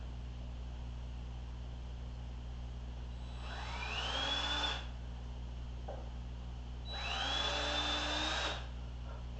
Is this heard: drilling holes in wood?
yes